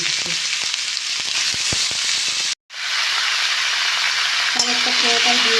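Spices and vegetables fry in a generous amount of oil, making a close, loud, steady sizzle punctuated by quick stirring knocks. It cuts off briefly to silence, then resumes with a brief tonal whine near the end.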